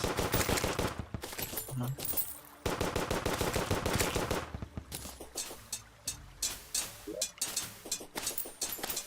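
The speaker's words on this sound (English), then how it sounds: "Let's shoot different bullets." Gunfire in the video game Terraria: rapid, fairly loud streams of repeating shots in choppy bursts with short gaps, each burst a quick rattling chain of pops.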